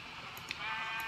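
Sheep bleating in the video game Minecraft, a pair of short, thin bleats close up, one midway and a second near the end, over a low steady background hum.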